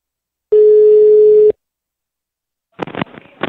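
A telephone line gives a single steady electronic tone of about one second during a prank call, then goes quiet before a voice starts speaking.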